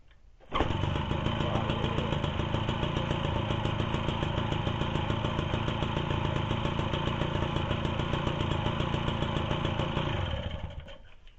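A Motobécane AV88 moped engine kicks into life and settles into a steady, buzzing single-cylinder idle, running close and continuous for about ten seconds before cutting off.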